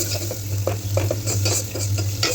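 Onions and tomato frying in a pan for sarson saag, with steady sizzling, repeated spoon stirring and scraping clinks, and a constant low hum underneath throughout.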